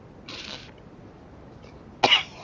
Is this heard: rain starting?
no